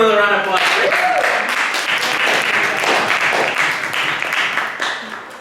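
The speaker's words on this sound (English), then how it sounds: "Let's give him another round of applause." An audience at a social media marketing session bursts into applause, loud dense clapping from many hands that swells at once and holds steady before slowly tapering off, with a voice briefly heard at the start.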